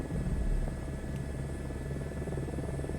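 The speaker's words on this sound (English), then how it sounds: "The helicopter moved to the right slightly when one skid made contact." A helicopter settles onto a landing pad in Microsoft Flight Simulator 2024, with a steady low rotor and engine hum and a faint buzz, fairly quiet and with no voices.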